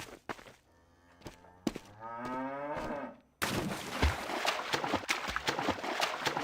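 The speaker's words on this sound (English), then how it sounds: "The moo is back." Cow moo sound effect from the video game Team Fortress 2, a long loud bellow with clear rising and falling harmonics, followed by a sudden burst of busy gunfire and game action noise.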